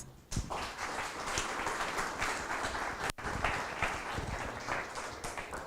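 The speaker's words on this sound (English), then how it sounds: "Another round of applause, please." Steady, moderately distant applause from a conference audience in Tallinn, Estonia, continuous clapping with a brief dip in the middle before it resumes at the same level.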